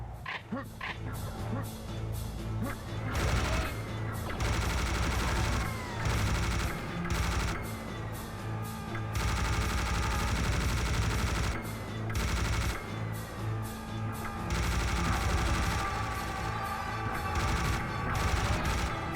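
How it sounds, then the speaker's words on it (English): Minigun firing in the video game Serious Sam: The First Encounter, dense rapid bursts of gunfire with short pauses between volleys, mixed with explosions and other game effects, at moderate level. "Oh man, the minigun feels strong. It's highly damaging. It's very accurate."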